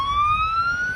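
An ambulance siren wails loud and close, a steady rising tone over a low road rumble, heard for a single brief stretch with no talking.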